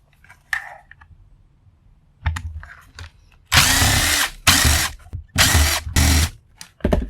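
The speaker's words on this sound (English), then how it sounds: "there's 4 screws around here. Go ahead and remove those." A power drill backs screws out of a blender being scrapped for copper, running in several loud whirring bursts of about a second each after a few quieter clicks and handling sounds.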